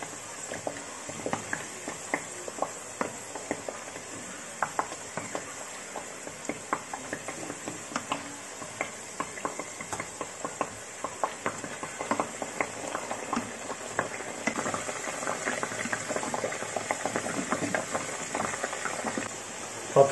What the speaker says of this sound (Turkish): Şimdi biraz da ters çeviriyorum patateslerimi.